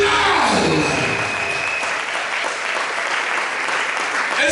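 A church congregation applauds and acclaims Jesus during a Sunday service, sustained loud clapping and crowd noise filling the room from start to finish.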